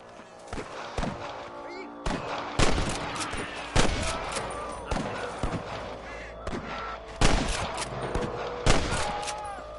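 Gunfire in the Western video game Red Dead Redemption, a long exchange of sharp, loud shots fired in bursts and single cracks at irregular intervals, with some in-game voices.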